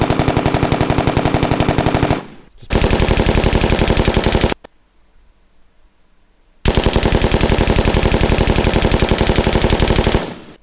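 Dense automatic gunfire in long sustained bursts, loud and close, with sharp snapping cracks of passing projectiles; two extended bursts are split by a few seconds of near silence.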